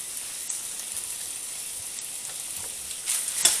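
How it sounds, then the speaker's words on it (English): Chopped pieces from three slices of bacon frying in a pan, a steady close hiss and sizzle with faint crackles, briefly louder near the end as they are moved around. "Right, I've just put the bacon in."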